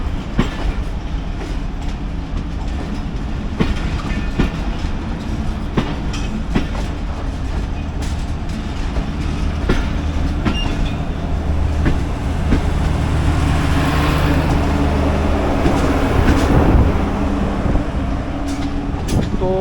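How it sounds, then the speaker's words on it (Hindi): Karakoram Express pulling out of Lahore with AC business, AC standard and economy coaches, a steady heavy rumble of wheels and clickety-clack building gradually in loudness, no voices. "2 AC बिजनेस और 2 AC स्टैंडर्ड 11 इकॉनमी के साथ 42 टन काराकोरम एक्सप्रेस लाहौर से रवाना हो रही है।"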